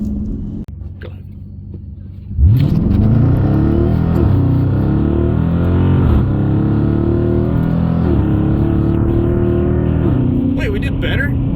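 A 2017 Dodge Challenger with a Diablo PCM install and tune launches hard on paddle shifters, its loud engine roaring up through rising revs and gear changes after a quieter idle, with faint voices underneath.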